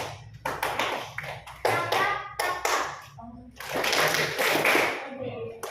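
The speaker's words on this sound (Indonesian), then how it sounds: "untuk tepuk empat kali ini temponya agak sedikit berbeda ya" Hand claps in a counted classroom rhythm exercise during an arts lesson, sharp bursts grouped in short patterns, alternating with a teacher's instructions and children's voices nearby.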